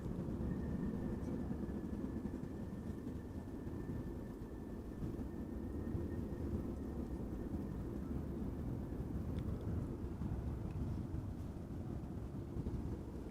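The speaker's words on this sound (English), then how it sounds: "in the foreground we have Ryanair arriving from Dublin, flight 420, 737-800" Ryanair Boeing 737-800 airliner arriving at Amsterdam Schiphol Airport, a steady distant low roar of jet engines with wind rumble, faint and continuous with no voices.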